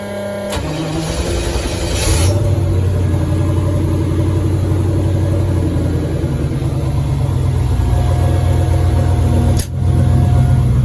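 A 4th gen Camaro with a T56-to-TH400 conversion cranks and fires, then settles into a loud, steady idle with a low rumble and a brief dip near the end.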